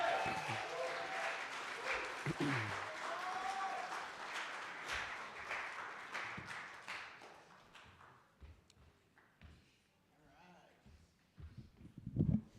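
Open mic night audience applauding a performer coming to the stage, a sustained round of clapping and crowd noise with voices mixed in that fades after several seconds, followed by quieter talk.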